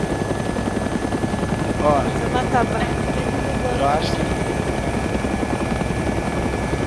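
A helicopter in the video game DayZ drones steadily with a constant rotor and engine hum, heard throughout, while a voice briefly exclaims over it partway through.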